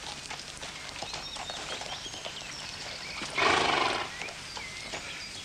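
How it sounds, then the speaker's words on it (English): A horse that balks at moving off gives a loud, strained whinny of about a second partway through, standing out against a steady background of outdoor noise. "That horse does not want to go."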